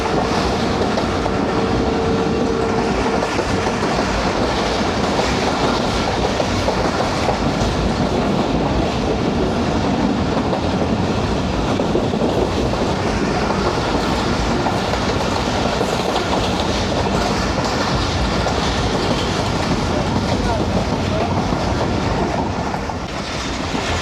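A passenger train runs on rails past an abandoned station on the Faisalabad to Lahore route, a loud, steady rumble with rhythmic clickety-clack of wheels that continues unbroken for the whole stretch, with no talking.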